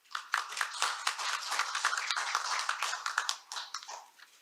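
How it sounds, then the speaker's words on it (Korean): Audience applause greeting a university professor introduced as a presenter at a regional forum on local government, a steady wash of many hands clapping for several seconds, moderately loud with no talking over it. "여러분 박수로 환영해 주시기 바랍니다."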